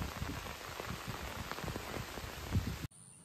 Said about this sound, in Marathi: वारो आणि पाऊस हा जरा.